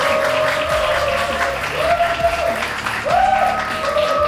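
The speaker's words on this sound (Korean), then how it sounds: "박수 한번 다시 부탁드리겠습니다" A studio audience on an investment competition show claps steadily and loudly for contestants who passed the preliminary round, a dense close wash of hands that swells twice, with faint tonal music underneath.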